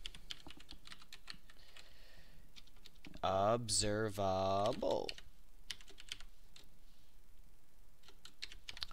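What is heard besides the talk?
typing on a computer keyboard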